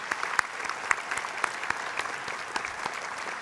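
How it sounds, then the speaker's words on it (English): Audience applause welcoming six new university leaders at an opening convocation, a steady wash of many hands clapping from a large crowd in a hall, with a few sharper individual claps standing out. "We were asked to hold our applause, but I think now we can."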